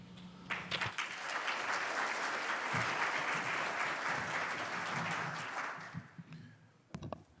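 An audience at a juvenile justice conference breaks into applause, a full, sustained wash of clapping lasting several seconds before tapering off into scattered claps.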